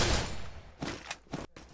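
Rapid bursts of gunfire from a video game, a loud opening volley followed by several shorter cracks spaced apart, close and prominent with no talk over them.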